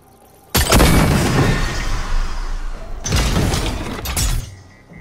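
Two heavy cannon blasts in Fortnite, one early and one a few seconds later, each a loud booming crack that rings out and decays slowly.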